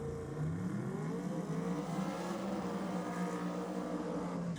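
Twin-turbo small-block Chevrolet-powered Corvette Pro Mod drag car engine at a drag racing meet, a loud continuous roar with steady rising harmonic tones over about five seconds, no voices.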